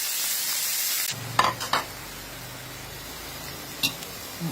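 Minced pork and lotus stems sizzle in a pan, first a strong hissing fry, then a few clattering scrapes and stirs as the sizzle settles into a softer steady crackle.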